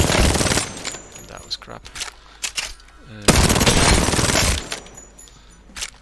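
The Volt submachine gun in Apex Legends fires in long sustained automatic bursts broken by short pauses, with loud crackling shots and a brief glassy shatter, under a man's speech.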